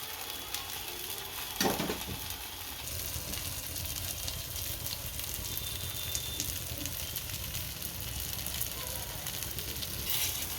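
Sweet pudla sizzles and fries steadily in a pan after being flipped, a continuous close crackle with occasional scraping clatter from the spatula.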